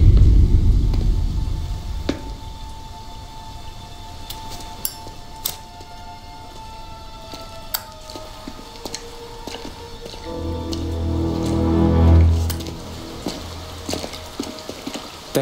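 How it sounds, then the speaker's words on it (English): Storm rain falls in Mafia Definitive Edition as a steady hiss with scattered sharp drops and cracks. A low rumble of thunder swells briefly near the end. "And a storm."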